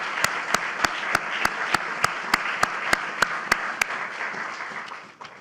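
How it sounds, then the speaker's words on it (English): Audience at a White House bill-signing applauds staff, broad clapping from a crowd with sharp, evenly spaced louder claps cutting through, fading out toward the end. "Let's have a round of applause for the great staff, White House"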